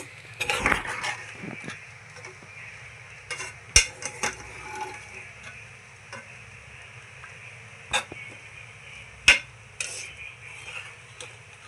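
Spoon stirring and mixing food in a bowl for a kids' tiffin lunch box, with soft scraping and a few sharp clinks of metal against the dish, quiet and close with no talking.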